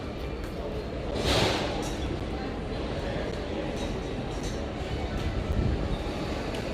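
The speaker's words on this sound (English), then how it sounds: "Good old monorail Teal coming in." The Epcot monorail Teal rolls in on its beamway, a broad rumbling rush with a swelling whoosh as it nears, steady and fairly close, and a voice speaks over it.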